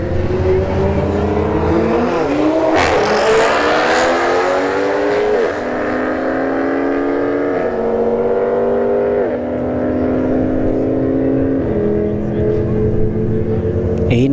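Toyota A90 Supra drag racing at Bradenton Motorsports Park, a loud engine revving hard through rising, shifting gears on a long pull, with an announcer talking over it.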